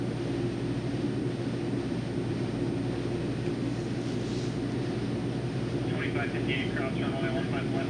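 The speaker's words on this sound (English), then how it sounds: "Delta Airlines 75 lines up on wrong runway" A Delta Airlines jet taxiing on a runway at Boston airport gives a steady loud engine roar and hiss that holds throughout, with a voice talking over it.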